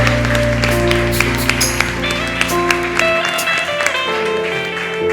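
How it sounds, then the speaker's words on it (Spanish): Loud, continuous clapping from a large church congregation, mixed with sustained music tones, with a low note dropping out partway through. "Dale un gran aplauso a nuestro Salvador."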